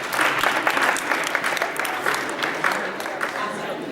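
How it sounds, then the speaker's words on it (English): Audience at a student Fast-a-Thon event claps in a steady, moderately loud round of applause, a dense continuous patter of hands with a few cheers mixed in. "Give yourselves a round of applause."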